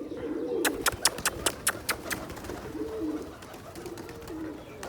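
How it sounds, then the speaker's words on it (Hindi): Pigeons cooing on a rooftop, soft repeated coos with a quick burst of sharp wing claps early on, fairly close in a quiet setting. "कबूतर फ्रेश कितने हैं जी"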